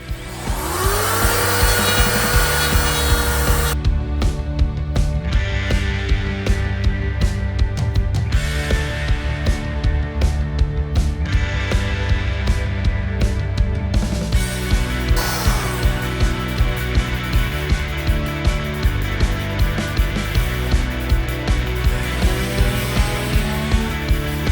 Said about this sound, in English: Now I just gotta cut them and sand them down and make them look nice.